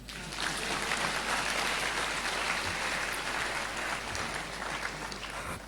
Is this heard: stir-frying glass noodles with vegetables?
no